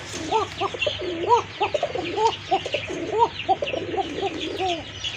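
Pigeons kept in a loft with eggs and chicks coo in a run of soft, repeated rising-and-falling calls. The cooing is moderately quiet and comes in short phrases over a low background hum.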